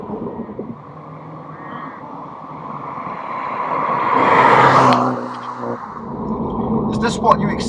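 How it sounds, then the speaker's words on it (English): A Mini F56 hatchback driving, with a steady engine and road hum beneath someone talking, rising to a louder acceleration surge midway before settling back. "This is my first time driving the F56 Mini, and it feels really lively."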